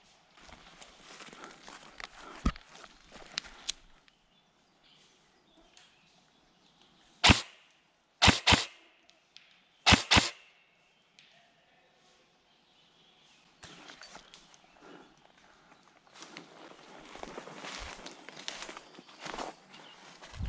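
Footsteps approach from behind the player in a multiplayer video game, a few sharp loud steps standing out mid-clip amid softer game ambience and busier noise at the end.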